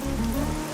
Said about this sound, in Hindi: ये बारिश है कि रुकती ही नहीं है